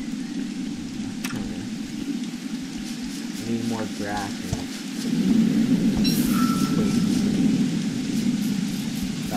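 Steady rain hiss from the Don't Starve: Reign of Giants video game fills the scene, growing heavier midway, with a brief thunder-like rumble; someone talks over it.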